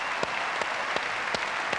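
Hearty studio-audience applause during a 1998 Dutch lottery TV show, a thick continuous clapping with a few sharper claps standing out, all in under two seconds.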